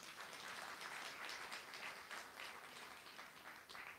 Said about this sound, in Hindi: ताली तो बजाओ भाई जरा।